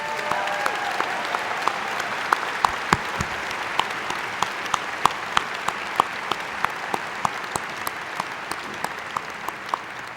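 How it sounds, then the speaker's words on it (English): An audience at a college commencement applauds in a long, even stretch of clapping, fairly distant and steady, with a few sharper claps standing out close by. "Let's all give the President a round of applause on his last commencement."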